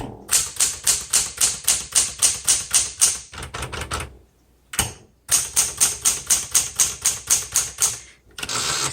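Rapid clacking keystrokes of a 1970s Smith Corona Galaxie Deluxe manual typewriter in quick bursts, with brief pauses and a carriage return break midway; close and loud, no talking.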